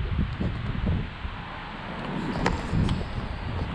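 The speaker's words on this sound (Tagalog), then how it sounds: "Medyo windy lang ngayon mga master, mahangin." Steady wind gusting and buffeting against the microphone, with a broad rushing roar and occasional rustling, no voices.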